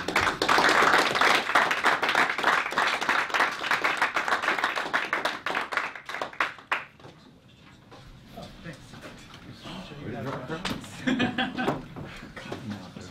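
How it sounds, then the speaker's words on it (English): An audience at a PhD proposal defense gives a round of applause, dense clapping that thins out and fades after several seconds, followed by quieter room sounds and talk. "One more time with a round of applause"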